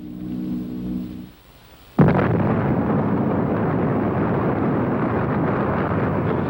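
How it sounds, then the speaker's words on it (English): A huge atomic bomb explosion over Hiroshima on a morning in August, rendered as a sudden massive blast after a brief low hum and a moment of near silence, then a sustained loud roaring rumble that fills the rest. "At 8:15 in the morning of the 6th of August, the atom bomb was dropped."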